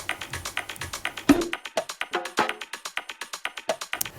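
Tonal mid-range percussion loop from an underground house drum groove, with steady rhythmic hits repeating at an even tempo, clear and up-front with no voices.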